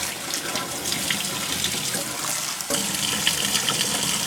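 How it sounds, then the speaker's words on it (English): Water runs steadily from a kitchen tap into a sink, a constant splashing rush with no voices. "I'm going to run my water"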